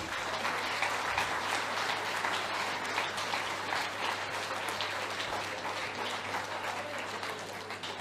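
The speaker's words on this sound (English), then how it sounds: "A massive round of applause for your Welsh Classic finalists" A snooker crowd applauds the Welsh Classic finalists at a holiday park venue, sustained even clapping from many hands at moderate distance that continues throughout, with a low steady hum underneath.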